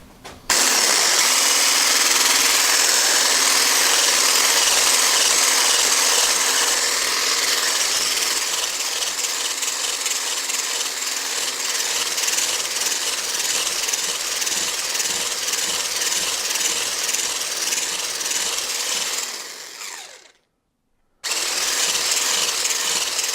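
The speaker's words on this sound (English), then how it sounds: "I'll set the whisk on a slow speed." An electric whisk runs on slow speed through Swiss roll batter, a loud, steady motor whir that holds for about twenty seconds, then cuts out briefly and starts again.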